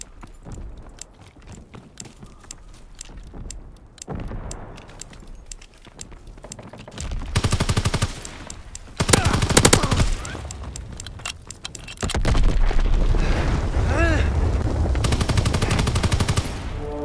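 Video game gunfire rattles in rapid automatic bursts, loud and close, building into heavier, denser volleys and explosive blasts toward the end.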